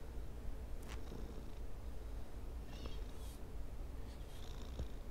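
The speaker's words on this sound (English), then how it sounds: "Oh my god, it's a kitty." A cat purrs steadily in a video game, a continuous low rumble running unbroken through the whole stretch at close range, with a few faint higher clicks and chirps over it and no talking.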